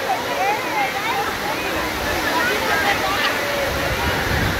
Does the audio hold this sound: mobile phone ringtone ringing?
no